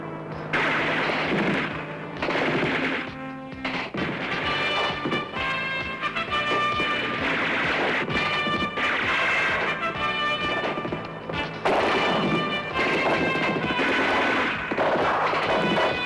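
Sustained bursts of gunfire directed at Supersonic Man in the 1979 film, repeated loud volleys in close succession that fill the whole stretch over a noisy action soundtrack.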